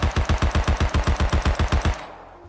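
Stock Tommy gun in Rust with no attachments fires a steady full-auto burst of about fifteen loud, evenly spaced shots over two seconds, ending abruptly with a short fading tail.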